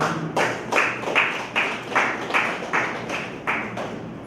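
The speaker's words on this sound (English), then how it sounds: "Well deserved. A round of applause." Rhythmic clapping at a real estate professionals awards ceremony in Ghana, with about nine evenly spaced claps or beats in steady time, fairly close and moderately loud, with no talk over it.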